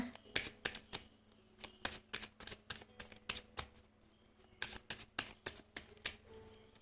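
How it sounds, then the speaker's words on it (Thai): Tarot cards being shuffled by hand during a reading, a series of crisp riffling bursts in uneven groups, faint and close, with no talk. "ดี๋ยวขอซับไพ่หน่อยนะ"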